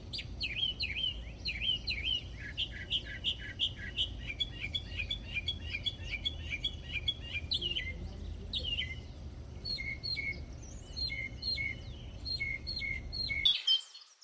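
Birds sing across grassland and thornveld in Mokala National Park, South Africa: a steady stream of bright chirps, trills and tweets from several birds at moderate distance, continuing without pause over a faint background hum, with no talk.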